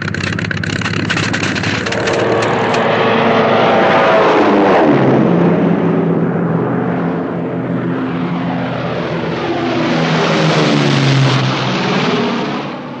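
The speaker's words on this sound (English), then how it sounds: "Take to the air in vintage aircraft." A vintage propeller aircraft drones loudly overhead, its engine roar rising and falling steadily as it passes close by, with no voices.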